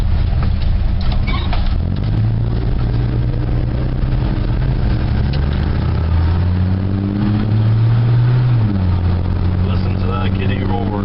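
A pickup truck with a 225 engine of roughly 150 horsepower, on a run to the dump, idles and revs up close with a deep, rising drone while people talk over it.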